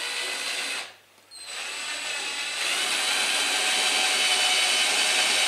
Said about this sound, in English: Again, I'm using the step drill. Just drill a hole roughly in the middle.